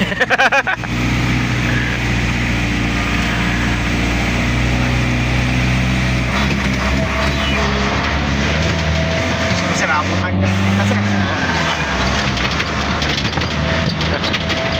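A motorcycle engine roars steadily and loud, straining with shifting pitch as it climbs a steep road in Angono, Rizal, while people talk briefly over it.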